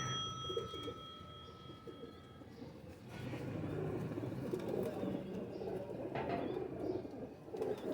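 Ferozpuri and Teddy cross pigeons coo softly in low, throaty repeated calls under a steady murmur of background noise, with a few faint chirps from other birds.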